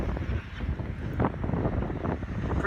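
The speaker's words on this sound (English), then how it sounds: "Pretty windy weather." Wind buffets the microphone in gusty outdoor weather, making a constant low roar with rumbling bursts that fill the short stretch.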